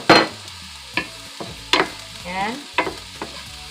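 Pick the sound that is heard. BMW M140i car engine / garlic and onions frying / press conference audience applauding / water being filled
garlic and onions frying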